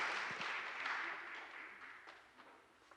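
A church congregation at a Hindi service applauds to welcome the pastor, a faint, hall-filling patter of many hands that gradually fades out.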